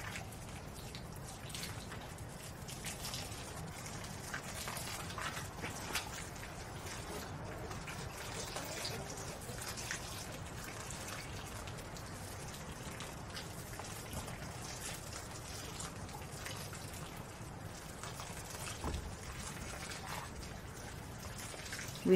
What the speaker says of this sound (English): So I'm going to water it, kind of flood it completely with water